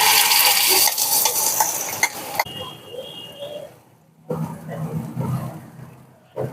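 Mashed hilsa fish goes into hot oil with black cumin and is stirred, opening with a loud close sizzle, then quieter scraping and stirring with bursts of frying, while a voice speaks over it.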